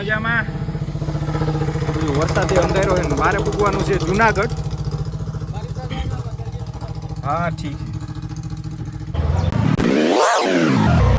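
An auto rickshaw engine runs steadily and close by throughout, its low, pulsing drone continuing under someone talking, before a louder sweeping burst of sound near the end.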